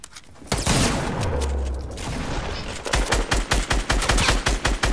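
Video game gunfire in a squad match, first a dense roaring burst and then rapid rhythmic shots, loud and close, with no talk over it.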